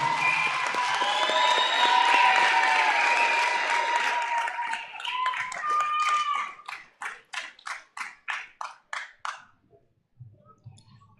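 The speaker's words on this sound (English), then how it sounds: "Everyone, give these parents a round of applause." Crowd applause and cheering at a high school commencement ceremony for parents of top seniors, a loud sustained roar with whoops that thins out into about a dozen separate, slowing claps before fading away.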